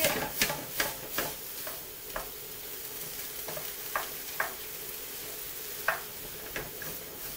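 Enchilada filling being stir fried in a pan, a steady low sizzle punctuated by regular sharp scraping taps of a utensil stirring against the pan, close and fairly quiet, no talking.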